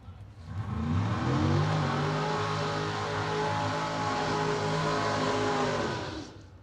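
Door cars drag racing at a Christmas bracket race: a loud, sustained engine roar that rises quickly and holds at full throttle for several seconds, then fades as the cars pull away down the lanes.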